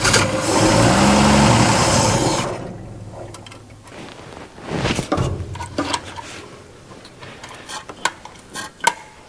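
Engine of an abandoned 1961 Ford Falcon with a suspected carburetor problem runs roughly for a couple of seconds, then dies away into uneven sputtering bursts and coughs, close and moderately loud.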